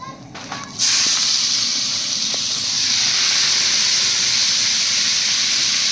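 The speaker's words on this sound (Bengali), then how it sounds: "গাজর দিয়ে দিচ্ছি।" Carrots dropped into a hot pan for vegetable fried rice set off a sudden loud hiss that holds as a steady, close sizzle.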